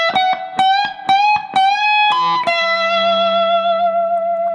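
Electric guitar with effects and distortion playing the closing lick of the solo: a run of quick picked notes, then a sustained bent note ringing out, loud and alone.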